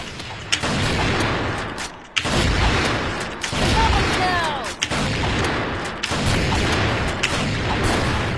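An AWM sniper rifle fires in a Crossfire free-for-all match, with loud, heavy shots repeating every second or two over continuous game noise while a person talks throughout.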